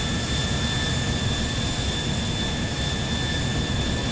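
A jet airplane engine in GTA IV roars in a steady, dense, loud whoosh with a thin high whine held throughout, continuous and unchanging, with no voices.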